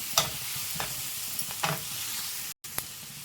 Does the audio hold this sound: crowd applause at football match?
no